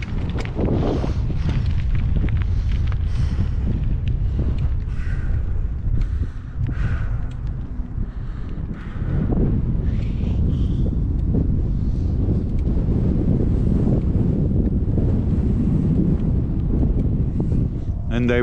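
Heavy wind buffeting a microphone beside the barge canal in Rome, New York, a loud continuous low rumble with gusty roaring that barely lets up, and a voice faintly buried beneath it.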